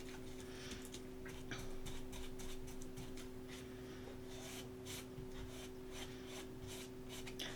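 A file rasps against the edges of a Dollar Tree wood cross in quiet, repeated rhythmic strokes, faint and close, over a steady low electrical hum.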